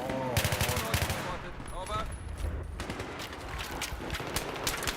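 Rapid gunfire from the Battlefield 3 video game, bursts of shots crackling continuously through the clip alongside a busy mix of in-game sounds, loud and sustained, with a voice talking over it.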